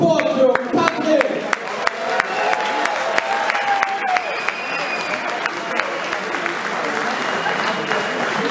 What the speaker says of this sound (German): Und gebt euren Applaus!